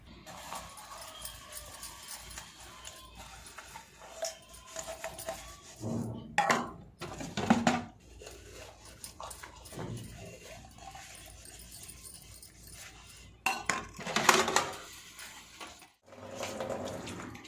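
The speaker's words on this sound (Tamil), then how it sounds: "ஃபஸ்ட்டு நம்ம பாத்திரத்தை க்ளீன் பண்ணிக்கலாம்." Faint running water with scattered clinks and clatters of pots and dishes being washed in a home kitchen, in intermittent bursts amid quieter stretches.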